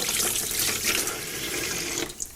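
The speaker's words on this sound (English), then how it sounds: "Cold running water, and all we're doing is just removing the salt from the outside." Cold water runs steadily from a tap over cured coppa meat in a sink, rinsing salt from its surface; a loud, continuous splashing that shifts slightly as the meat is turned, with a few drips near the end.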